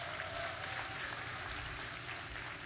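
Steady applause from a crowd at a housing project groundbreaking in San Rafael, Bulacan, a dense even patter of clapping that fills the whole stretch without a break.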